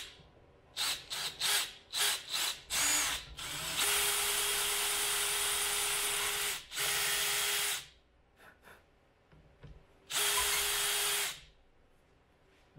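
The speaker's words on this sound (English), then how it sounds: "We are actually going to try a spot drill first." A spot drill bites into a Triumph crankshaft in a workshop, starting with a string of short stuttering bursts, then a long steady whine, with pauses and a final sustained run, loud and close.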